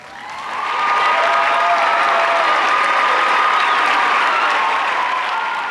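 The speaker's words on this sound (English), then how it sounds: "could you please stand and let's give them a round of applause." An audience at a Milken Educator Award event at an Arizona school breaks into applause that swells within the first second, then holds as a dense, sustained clapping that eases slightly toward the end.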